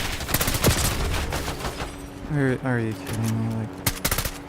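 Rapid bursts of automatic gunfire in the video game Call of Duty, loud and close in several volleys, with someone talking over the shooting.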